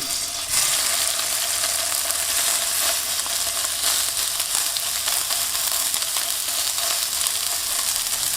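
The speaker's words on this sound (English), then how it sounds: "when the pan is nice and hot, slowly add in your burgers always away from you" Burger patties for juicy lucy burgers sizzle loudly and steadily in a hot cast iron pan, a dense continuous hiss that swells just after they go in.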